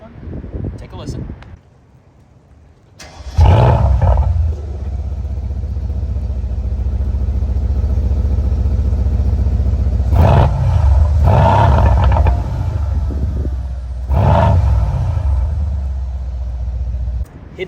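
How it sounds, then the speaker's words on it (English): A Mercedes-AMG C63 V8 with sports exhaust and black pack diffuser starts with a loud roar, then settles into a deep, rumbling idle broken by three sharp revs; a brief voice is heard at the beginning. "sports exhaust system on this one. Take a listen."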